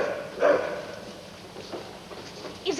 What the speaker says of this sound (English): That's her bark when she smells danger.